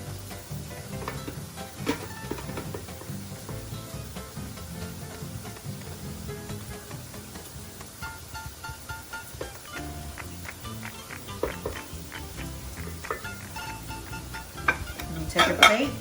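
A spoon scrapes and taps as cooked rice is packed into a small bowl for lomo saltado, with light clinks of dishes and a faint kitchen sizzle underneath throughout.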